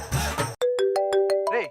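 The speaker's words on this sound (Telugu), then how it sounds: "నా లవర్ ఫోన్ చేస్తుంది, నేను లేనని చెప్పు." A mobile phone rings on a comedy skit stage, a clear repeating electronic melody of bright tones following a brief burst of voices.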